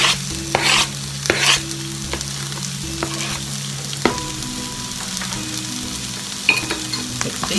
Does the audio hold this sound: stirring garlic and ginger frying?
yes